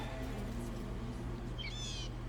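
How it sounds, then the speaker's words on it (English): A bird call from the video game Baldur's Gate 3 gives a short warbling trill near the end over a steady low ambient drone, fairly faint. "Was it the bird?"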